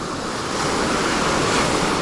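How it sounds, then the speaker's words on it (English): Ocean waves wash in a steady, loud, broadband roar with no gaps, mixed with some wind rumble on the microphone and no talking. "We're at the ocean now."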